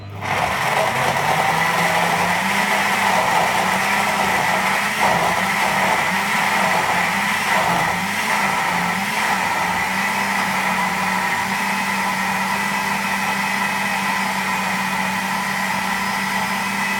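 A blender whirs continuously at close range for a long stretch blending a mango carrot smoothie with cinnamon, its motor pitch wavering slightly as contents churn, with no speech.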